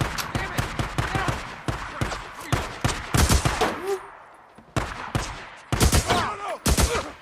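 Days Gone shootout with rapid bursts of gunfire, loud and close, some clusters of shots and single cracks spread over several seconds, with brief gaps and an echoing battle backdrop.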